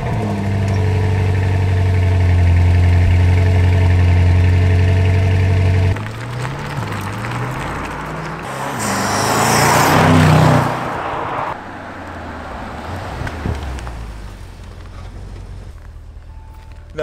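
A Bentley Continental GT, bought cheap and rebuilt, starts up with a steady low idle, then revs and pulls away with a rising engine swell before settling into a quieter driving hum, close and loud throughout.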